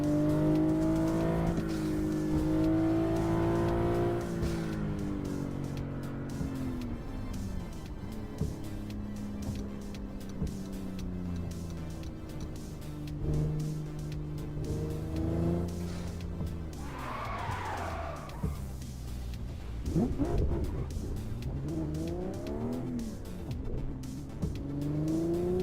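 Car engine from the Assetto Corsa racing game on PC, a steady droning note that rises and falls through gear changes for the whole stretch, with a brief tire skid in the middle and revs climbing again near the end.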